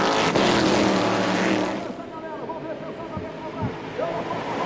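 Stock Car race cars roar past at the Curitiba circuit in 2008, a group of four: a loud, broad engine rush fades into a steadier, more distant drone while a commentator talks over it.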